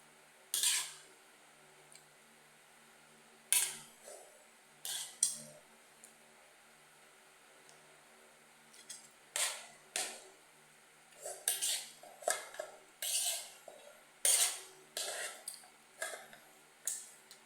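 A kawali frying pan and cutlery clank and clatter close by in scattered sharp bursts, with quiet gaps between them and only faint voices.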